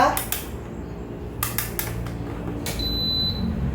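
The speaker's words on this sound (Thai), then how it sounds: "เริ่มจากเปิดเตานะคะ" A gas stove is switched on before frying chicken, with several sharp ignition clicks spaced about a second apart over a steady kitchen hum.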